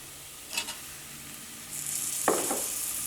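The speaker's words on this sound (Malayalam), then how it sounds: "ഇനി ഇതിലേക്ക് തക്കാളി ചേർക്കാം." Tomatoes go into a pan of frying spice masala for a mushroom curry. A brief clatter is followed by a sudden, bright sizzle that settles into a steady, close hiss.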